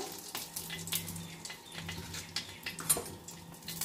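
Ghee heating in a hot wok with bay leaves, giving a steady close crackling sizzle with scattered pops throughout, moderately quiet and with no talking.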